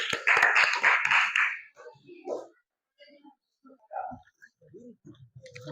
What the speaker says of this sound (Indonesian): Oke, aplaus kelompok 2.